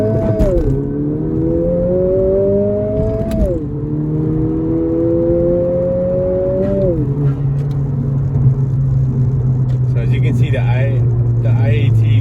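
A 10th-generation Honda Civic Si with an upgraded intercooler pulls hard through first gear, engine note climbing in steady rising sweeps, dropping briefly at each shift-like dip, then settling into a lower steady drone; loud and close from inside the car.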